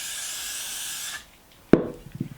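Got To Be hair spray released in a single hissing burst just over a second long, close and moderately loud, followed by a brief clack and soft rubbing sounds.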